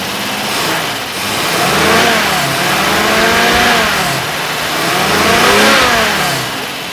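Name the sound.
MGC sports car engine revving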